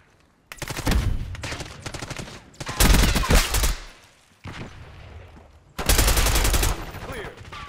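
Bursts of automatic gunfire in a Call of Duty Black Ops 6 team deathmatch come in four loud, rapid volleys separated by short gaps.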